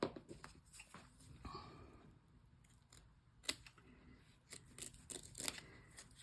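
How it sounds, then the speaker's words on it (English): Scissors snip through leftover fabric while trimming a zippered bag, a series of close, sharp cuts spread irregularly across the quiet. "So I'm going to switch to these scissors."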